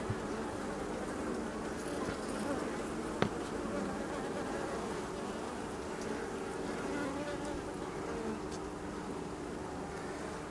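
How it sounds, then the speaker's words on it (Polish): A dense, steady buzz of many honeybees at an open hive fills the space continuously, close and moderately loud, with a voice murmuring faintly underneath. "Troszkę tych pszczół, troszkę pszczół z plastru wyjdzie."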